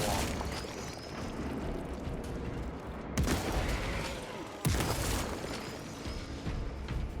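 Bolt sniper rifle fired in Space Marine 2: two sharp, loud cracks land a second and a half apart over a constant dense backdrop of combat noise.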